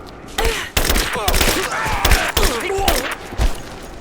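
Rapid gunfire bursts ring out in the Rise of the Tomb Raider video game, loud and close, mixed with shouting voices and clattering combat sounds in a chaotic firefight.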